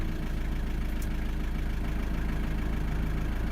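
A Nissan D21 Hardbody engine idles after a cold start, a steady low rumble with even pulsing that holds constant throughout and has no talk over it.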